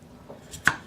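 A single sharp knife chop through celery on a cutting board, one quick near thud in an otherwise quiet kitchen.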